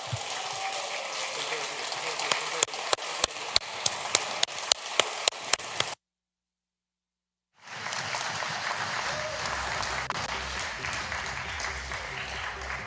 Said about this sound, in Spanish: nuestros aplausos podrían ser un poco más entusiastas